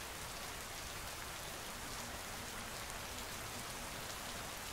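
A constant downpour patters across a surface, a uniform wash of countless raindrops holding a steady level throughout, with no one speaking.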